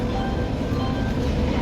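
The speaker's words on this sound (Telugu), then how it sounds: "అండ్ మన వెనకాల అయితే మాత్రం సికింద్రాబాద్ నుంచి అనకాపల్లి వెళ్ళే స్పెషల్ ట్రైన్ అయితే వస్తుంది మన వెనకాలనే." A Secunderabad–Anakapalli special train arrives at a station with a continuous, close, heavy rumble and broadband rail noise. No horn or distinct clanks stand out.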